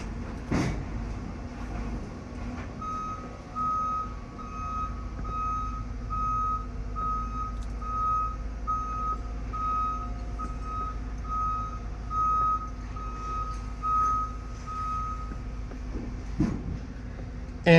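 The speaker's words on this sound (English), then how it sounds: "We are getting loaded with a couple of these little bobcat-like devices called skid steers." Reversing beeps sound steadily while skid steers are loaded onto a truck trailer, the evenly spaced tones running for most of the stretch over a low engine rumble and outdoor noise, with no talk.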